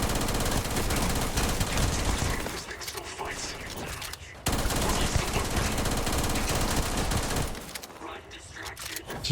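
Automatic gunfire sprayed in rapid, continuous bursts during a firefight in the Starfield video game, loud and dense, with a brief gap between volleys and voices talking over it.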